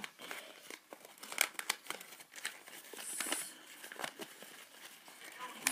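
Paper being folded and pressed together for a handmade chapter box, giving irregular close crinkles and crumpling rustles with a few sharper tearing-like crackles, fairly quiet and without talk.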